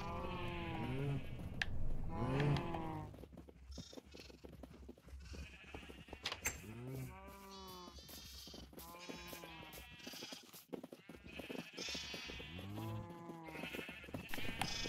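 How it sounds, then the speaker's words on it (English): Several sheep bleating in the Minecraft video game, repeated wavering baas overlapping at close range, with a low background hum and no speech. "There's too many sheep."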